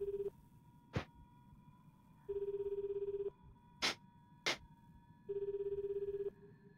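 Repeated electronic ring tones after dialing Kyoko's cellphone number in the Calling horror game, regular beeping bursts with a few sharp clicks between them, clear and alone with no voices.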